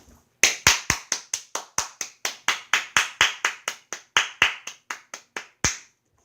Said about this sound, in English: let me stand up and clap for him.